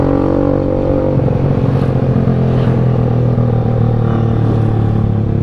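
A motorcycle speeds along a bumpy road with a loud, continuous engine rumble close by, its tone shifting as it revs, while the ride clatters over the uneven surface.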